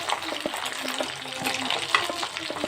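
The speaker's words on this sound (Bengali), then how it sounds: "আমি আরেকবার করে এগুলো তেলের মধ্যে দিয়ে দিচ্ছি তাহলে ভাজাটা আরেকটু মচমচে হবে" Bhetki fish fingers sizzle loudly in hot oil during a second crisping fry, a dense close crackle with bubbling and a few light utensil taps.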